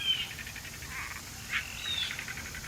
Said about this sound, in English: listening to the music of the night provided by the insects and frogs.